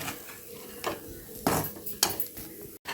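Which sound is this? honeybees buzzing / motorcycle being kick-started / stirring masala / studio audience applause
stirring masala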